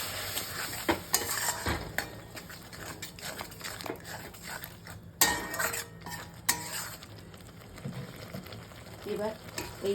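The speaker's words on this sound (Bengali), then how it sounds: "এবার একটুখানি কষিয়ে নিচ্ছি একটু গরম জল দিয়ে।" Soybean chunks and potatoes cooking in a pan with a splash of hot water, stirred with a utensil that clinks and scrapes against the metal over a steady sizzle, with faint background sounds.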